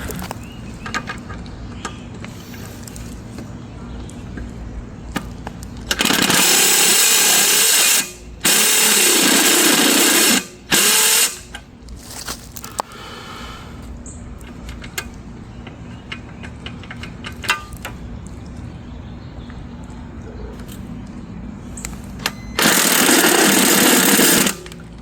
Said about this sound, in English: So what we're going to do now is take these screws off.